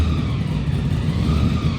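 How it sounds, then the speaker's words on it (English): A supercharged Monte Carlo pulls in with a loud, close, continuous mechanical whir and engine rumble that holds steady throughout the short stretch. "That was the blower noise you heard in the drive-in"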